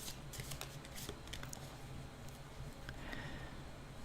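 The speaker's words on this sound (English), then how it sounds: "We're going to draw 6 cards" Tarot cards drawn from a deck and laid down, giving soft, close, quiet papery flicks and light slides in an irregular rhythm against a hushed background.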